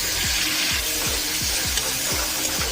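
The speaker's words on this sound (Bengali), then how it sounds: "পেঁয়াজটা ভাজা হয়ে গেলে ওতে কুচি করে রাখা টমেটোগুলো দিয়ে দিলাম" Chopped onions and tomatoes fry in a pan, a steady bright sizzle with regular, evenly spaced stirring scrapes about twice a second, close up.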